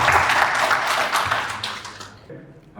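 Audience applause welcoming a speaker at a pharma strategy workshop: dense clapping that fades out over about two seconds, ending in near silence.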